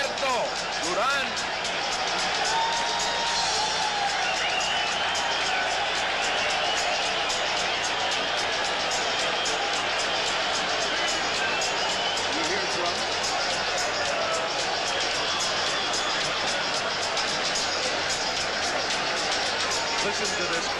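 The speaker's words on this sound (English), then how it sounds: "Listen to this crowd." Large arena crowd roaring and cheering before a boxing bout as the fighters enter the ring, a dense, steady wall of noise throughout with a commentator speaking over it.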